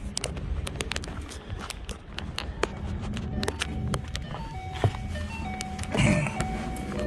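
A car engine starts after the mass airflow sensor is reconnected during a JLT Series 2 install. Sharp clicks and rattles come first, then the engine catches and rises into a close, steady idle.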